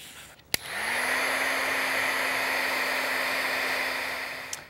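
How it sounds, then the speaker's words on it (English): A heat tool blows steadily for several seconds while warming glitter, a loud continuous whoosh starting with a click and running nearly uninterrupted to another click at the end, with no talking. "Again, we're going to heat this for 20 seconds."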